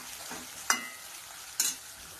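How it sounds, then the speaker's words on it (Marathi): Onions frying in a pan with cumin, mustard seeds, curry leaves and salt, a steady soft sizzle broken by two sharp scraping stirs of a spoon. "हलवायचं"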